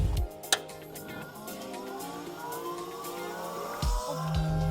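A Volvo electric hydraulic power steering pump starting up after the ignition is switched on: a whine that climbs steadily in pitch as the pump spins up, with a couple of soft clunks at the start and end.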